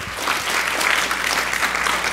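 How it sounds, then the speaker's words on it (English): A church congregation claps hands in praise, a loud, dense, continuous wash of clapping filling the room without a break. "Let's give God a praise, hand clap of praise for that"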